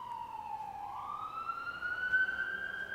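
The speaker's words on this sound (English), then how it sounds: "It's an ambulance." An ambulance siren wails through the city, a faint, distant rising tone that climbs and holds with no other sound nearby.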